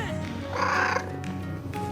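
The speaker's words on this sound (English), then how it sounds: "I got distracted by the cat trying to climb up my shirt." A house cat climbing up a person's shirt gives a drawn-out meow close to the microphone, over steady background game noise.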